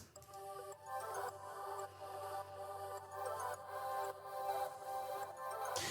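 Reverse delay and glitch processing from Output Portal's Digital Tape Toys on a soloed track, with fluttery swelling tones, chopped artifacts and faint sustained pitches, quiet throughout.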